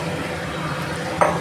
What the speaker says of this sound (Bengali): কষিয়ে নিই চিংড়ি মাছটা দিয়ে